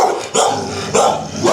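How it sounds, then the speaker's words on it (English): A dog at an animal control facility barks three times in loud, evenly spaced bursts, close by, with no talking. "The most vicious dog of all here."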